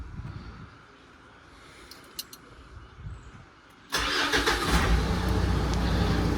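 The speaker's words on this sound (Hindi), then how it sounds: "गाड़ी हमारी स्टार्ट हो गई है।" A 2015 Mitsubishi Pajero Sport, back from a major service after a seized engine, is cranked and its engine catches. Its low rumble jumps to a loud, steady idle that carries on to the end of the clip.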